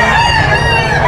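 Rooster crowing loudly and close by at a poultry sale in Bulacan, with dense harmonic crowing that fills the whole brief moment and no talk.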